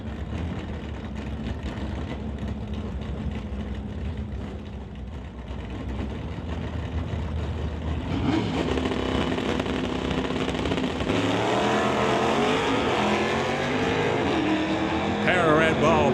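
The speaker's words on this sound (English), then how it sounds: "Will Zork will bring up his machine to race Alf Wiebe in the Buick" A drag racing car, paired against a Buick in a qualifying run, idles and then roars off down the track. The loud engine rises to a sustained high-revving howl, heard alongside a crowd and an announcer's voice.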